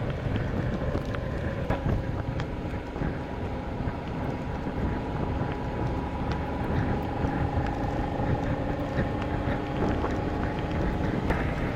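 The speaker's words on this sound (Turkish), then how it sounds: "Rüzgar da kuzeybatıya döndü." Strong wind roars across the microphone on a rainy motorcycle ride through the Latmos and Beşparmak Mountains, a loud, unbroken rush with engine rumble beneath and no talk.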